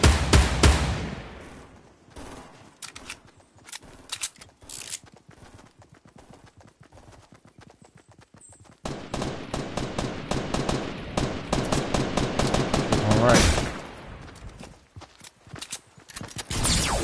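Gunfire in a battle royale video game, rapid bursts of shots that rattle in quick succession, near and loud, with quieter spells between volleys.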